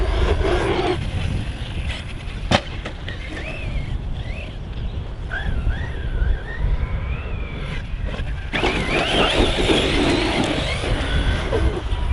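A radio-controlled car racing at full speed outdoors, its small motor whining in rising and falling pitch sweeps over steady rumbling road and wind noise.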